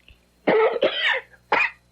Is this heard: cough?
yes